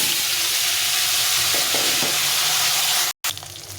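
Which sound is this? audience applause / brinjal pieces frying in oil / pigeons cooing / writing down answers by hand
brinjal pieces frying in oil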